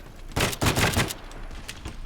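M4A1 rifle fire in a video game: a loud, close burst of rapid shots followed by a few sparser single shots over a steady background din, with no talking.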